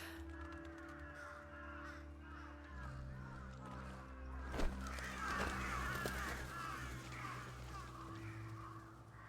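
Crows caw repeatedly in the Final Fantasy XVI video game, a steady run of harsh calls over a low droning ambience with a few sharp knocks midway.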